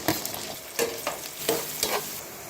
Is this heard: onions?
yes